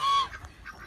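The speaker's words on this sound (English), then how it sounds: "We've got some new duck friends." Ducks call in a short, close burst of honking quacks, with a couple of softer calls following.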